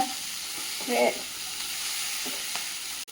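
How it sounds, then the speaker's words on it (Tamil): Raw banana (valaikai) frying and being stirred in a pan for valaikai varuval, a soft continuous sizzle with a brief murmur of voice and light stirring scrapes, fairly quiet and close. "இப்போ வாழைக்காய் நல்லா வெந்து வந்துருச்சு, நல்லா ஃப்ரை ஆகி வந்துருச்சு."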